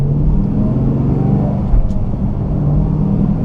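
A car engine with a newly installed cam idles while the car slows for a crosswalk, heard from inside as a loud, steady low rumble with a faint lopey pulse.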